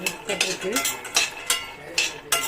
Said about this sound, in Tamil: முந்திரி பருப்பெல்லாம் கூட இந்த அளவுக்கு வறுபட்டுருச்சு, போதும். பிஸ்தா கூட இதோட சேர்ந்து எல்லாம் வறுபட்டுருக்கு.